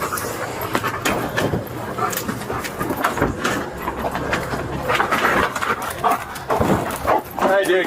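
A police dog barks during a search for a suspect hiding in a garbage can, its barks mixed into loud, continuous shouting from officers.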